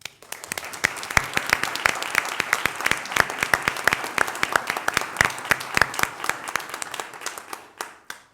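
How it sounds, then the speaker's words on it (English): Audience applause at a school board meeting for a good news and recognitions segment, steady and fairly close, with crisp individual claps sustained for about seven seconds before tapering off. "I would ask that you please help me give them a round of applause."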